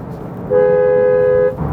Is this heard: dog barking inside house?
no